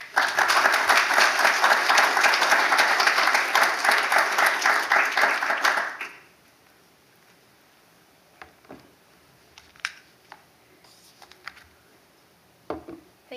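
A lecture audience applauds at the start of an art-history talk, giving steady, dense clapping for about six seconds. It then fades into a quiet room with scattered small knocks and rustles.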